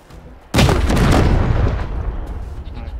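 A grenade explosion in the video game Wasteland 3 hits with a sudden loud boom, followed by a rumbling decay that fades over about two seconds.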